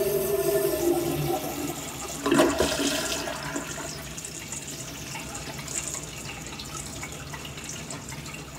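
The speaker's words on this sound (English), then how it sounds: "I think I just found the worst flushing Assderas ever." A toilet in the men's restroom of Angelo's Steak and Pasta flushes loudly up close with a rushing surge, then settles into a long running, trickling refill.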